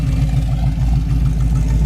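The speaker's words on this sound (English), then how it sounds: "It's got a really nice sound and dual exhaust, comes out the back." A 1972 Chevy Nova V8 with dual exhaust idles steadily and close by, a deep continuous rumble with a slight lumpy pulse and a faint gear-drive whine, no voices over it.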